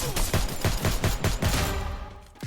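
Rapid bursts of gunfire from the Free Fire battle game, a dense rattling fusillade of evenly spaced shots that stays loud for about two seconds before trailing off.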